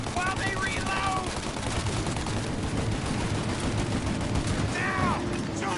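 A shootout in the video game Mafia: sustained, dense gunfire with overlapping rapid shots continues throughout at a steady, loud level, with occasional ricochet-like whines on top.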